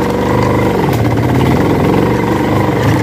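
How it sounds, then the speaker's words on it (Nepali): A CFMoto motorcycle carrying two riders runs continuously, its engine humming loudly and steadily with a throbbing, slightly rising pulse, close up and alone. "बाइक पनि जोस् कुद्दैछ"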